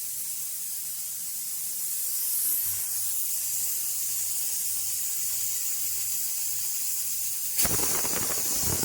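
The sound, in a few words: pressure cooker hissing steam while cooking vegetables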